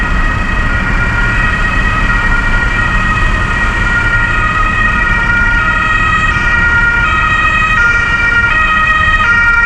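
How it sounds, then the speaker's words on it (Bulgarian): Ambulance siren wailing loudly and steadily on a road in Germany, close by and continuous with a rising and falling pitch pattern over traffic rumble. "Тук е някаква полиция идва. Това е линейка."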